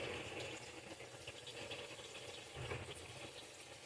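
A washing machine fills with water, a steady rushing, splashing stream running continuously at moderate level with no talk.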